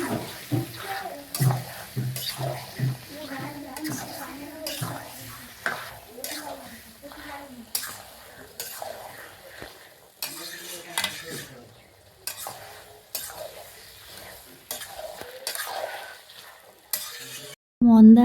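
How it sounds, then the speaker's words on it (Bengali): Marinated chicken being stirred in gravy in a pan, repeated scraping and clinking strokes over a low bubbling sizzle, with faint speech in the background and a brief louder thump at the end. "মাংসটা দিয়ে ভালো করে নাড়াচাড়া করছে"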